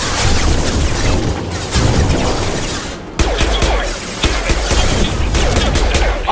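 Dense, continuous gunfire and impacts from a Mass Effect 2 firefight rattle on loudly, with bursts and booms overlapping throughout.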